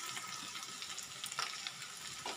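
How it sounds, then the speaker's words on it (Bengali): Raw potato pieces seasoned with turmeric and salt are stirred in a hot oiled pan for singara filling, a steady faint sizzle with soft scraping strokes of the spatula and no talk. "ভালো করে নেড়ে নিচ্ছি"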